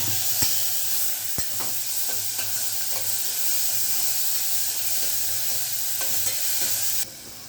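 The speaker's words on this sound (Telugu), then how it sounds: "తాలింపు వేయండి, ఉల్లిపాయ వేయండి, తర్వాత టమాటా ముక్కలు వేయండి." Chopped onion and tomato pieces fry in a hot tempering for mushroom curry, giving a steady close sizzle with occasional stirring clicks and scrapes from a spoon in the pan.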